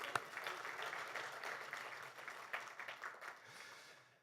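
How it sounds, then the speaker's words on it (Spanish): Church congregation applauding the pastor's wife, a soft, distant wash of many hands clapping that thins out and fades toward the end. "todos un aplauso por mi esposa"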